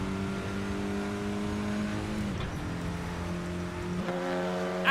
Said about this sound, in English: Outside engine sounds good.